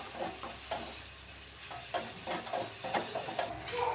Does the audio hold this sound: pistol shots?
no